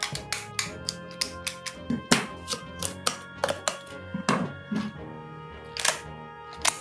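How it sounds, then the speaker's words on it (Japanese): A series of sharp, irregular snipping cracks as pruning shears cut through the bones of a large horse mackerel, close and distinct, with quiet pauses between cuts. "この包丁で骨切れないんでですね、枝切りバサミを使っていきます。"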